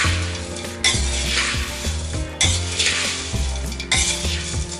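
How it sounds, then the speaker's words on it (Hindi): A mix of sev, boondi, poha chivda, peanuts and cashews being stirred in a pan makes repeated rattling, scraping sweeps, roughly one every second and a half, close and fairly loud. "सब अच्छे से मिक्स कर लेते हैं।"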